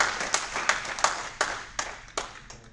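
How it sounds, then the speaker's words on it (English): Sparse applause from a small audience for a guest lecturer, about eight separate claps spaced unevenly and fading slightly, with no voices over them. "Let's give Bruce a big round of applause."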